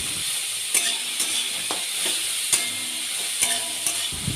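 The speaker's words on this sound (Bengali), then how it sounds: "এখানে উচ্ছেটাকে প্রায় তিন থেকে চার মিনিটের মতো খুব ভালো করে ভেজে নেব" Bitter gourd frying in a pan with salt and turmeric, a constant bright sizzle with regular scraping taps of a spatula stirring every half second or so, close and alone.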